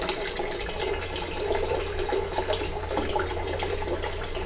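Water from a motor-fed tap runs steadily into a bucket, a continuous close splashing and gurgling flow with no speech.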